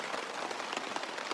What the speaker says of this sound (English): Now the rain's picking up.